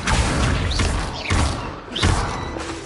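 Leviosa and Accio spell effects in Hogwarts Legacy: repeated heavy whooshing thumps about every second, with rising swooping tones layered over dense, loud magical rumble.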